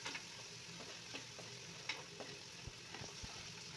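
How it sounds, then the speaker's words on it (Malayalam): Onions frying in a pan with shallots and curry leaves, a soft, steady sizzle with occasional light stirring taps, faint and close, without any voices. "അപ്പോൾ അതിൻ്റെ കൂടെ നമുക്ക് സവാള ഇട്ട് കൊടുക്കാം."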